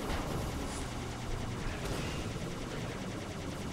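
Turret gunfire in Halo 2 rattles in a continuous, dense, loud barrage of rapid automatic shots that fills the whole stretch without pause, and no voices are heard.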